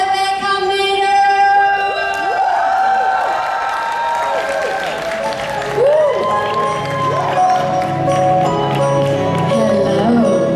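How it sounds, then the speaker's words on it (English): An audience at a Comic Con Film & Manga Fest Rotterdam Q&A breaks into dense, sustained applause with cheers and high whoops, loud and close throughout. "I need a round of applause for Rebecca Marder"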